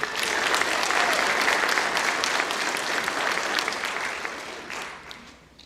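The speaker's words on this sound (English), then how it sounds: "So let's give them one round of applause." Loud, dense applause from a high school scholarship night audience honoring students, sustained for several seconds before tapering off at the end.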